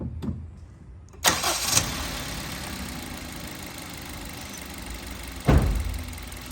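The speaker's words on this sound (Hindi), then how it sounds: "मैं गाड़ी को स्टार्ट करता हूँ और आप लोगों को दिखाता हूँ" A car engine cranks and catches, then settles into a steady idle, close and loud, with a second brief surge later.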